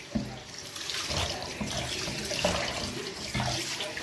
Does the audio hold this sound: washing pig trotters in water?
yes